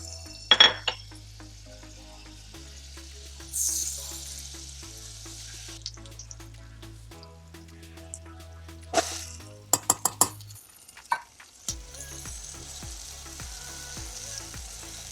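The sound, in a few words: rice frying in butter and avocado oil in pot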